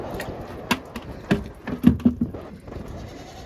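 A goat bleats a few times in short, wavering calls, fairly close on a muddy Ukrainian farm, with some rustling and background noise between them.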